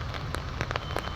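Steady rain falls onto a surface, with a dense hiss and scattered louder drops and taps close by, and no talk.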